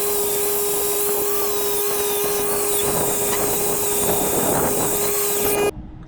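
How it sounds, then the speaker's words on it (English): A power grinder works down a metal body mount on a Toyota truck frame, giving a loud, steady, close whine with a constant pitch that cuts off abruptly near the end. "Grinding this down will determine the angle at which the pitch is."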